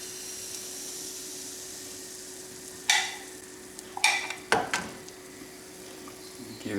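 Crepe batter for manicotti cooking in a hot buttered pan gives a low, steady sizzle, with a few scraping knocks of the pan and utensils partway through.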